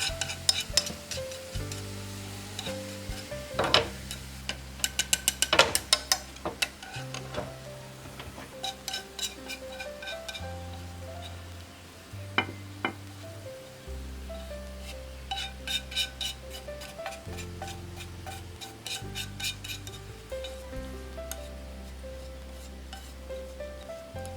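Food being stirred in a frying pan for a Vietnamese mangosteen chicken salad: steady soft sizzle under repeated scraping strokes, with occasional sharp utensil clinks against the pan, close and with no talking.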